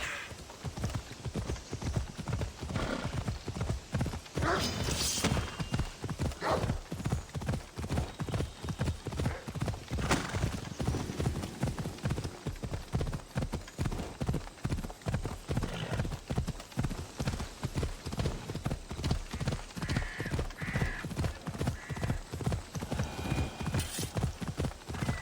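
A horse gallops in Assassin's Creed Odyssey on PS4, with rapid, rhythmic hoofbeats pounding continuously and an occasional neigh.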